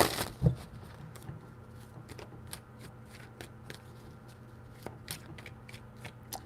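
Tarot cards are shuffled close by in a series of soft, crisp riffles and flicks, repeated in irregular bursts after an initial louder knock.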